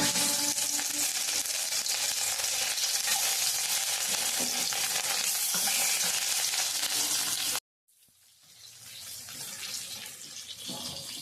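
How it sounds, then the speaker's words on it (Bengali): Loud, steady sizzling of small fish frying in hot oil, then a brief silence and a softer, crackling sizzle resumes. "মাছগুলো ভেজে নেব"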